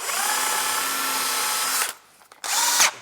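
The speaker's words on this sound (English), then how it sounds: "Now they tell you to start with a small drill bit first. Make your guide hole." A power drill with a small bit whines at high speed, boring a guide hole while fitting an SLP door to a Polaris RZR 900XP. One long close burst is followed by a short pause and a second brief burst.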